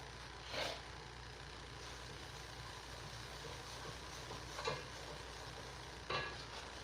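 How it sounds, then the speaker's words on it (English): A roux for mac and cheese is stirred in a pot, with a soft low sizzle running throughout and three brief scraping strokes of the utensil against the pan. "Let me stir my roux."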